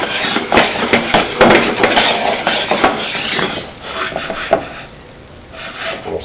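Stirring sauce in a pan, with a utensil scraping and knocking against the cookware in a steady run of sharp rubbing strokes and taps, up close and loud, then easing off toward the end.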